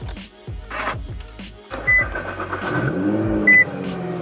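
A Nissan GTR engine warms up while still cold, its idle rumble close and loud, with a few short electronic beeps over it.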